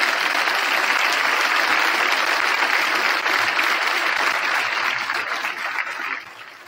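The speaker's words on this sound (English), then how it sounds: "Let's give everybody here a round of applause." A crowd gathered at a boys' varsity baseball event gives a dense, steady round of applause that holds strong before tapering off near the end.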